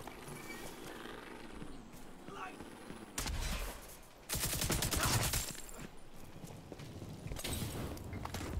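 Light machine gun fire in The Division 2 on a National Zoo mission, heard as bursts of rapid shots, with a sharp dense stretch around the middle over steady game ambience.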